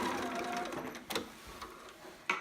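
A sewing machine runs a short back stitch while sewing a romper: a brief burst of rapid mechanical stitching, then a few isolated clicks and taps, close and fairly quiet.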